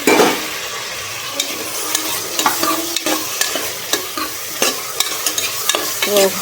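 Onions and then tomatoes frying in a pan for kuska rice, a steady broadband sizzle with repeated sharp scrapes and clacks of a spoon stirring against the pan, close and fairly loud, with no talking.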